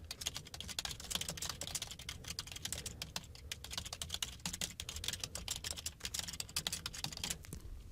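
Steady typing on a computer keyboard while writing post content, a rapid close stream of light key clicks with irregular rhythm and brief pauses, continuing for several seconds with no voices.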